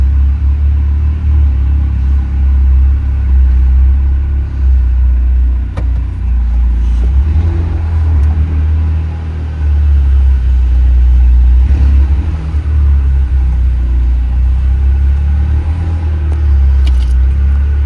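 A Vanderhall Carmel's engine rumbles steadily as it drives, with slight surges of revving and a constant low drone throughout.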